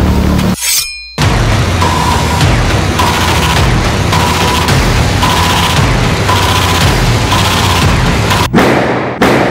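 A bomb-blast sound effect from a TV game show opens with a sharp burst and a cutoff, then a loud, sustained rumble with a repeating electronic beep tone, closing with another sudden hit near the end.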